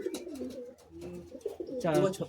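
Madras pigeons cooing close by at a pigeon sale in Bagnan, giving a few low throaty coos with a louder burst near the end, and voices heard faintly in the background.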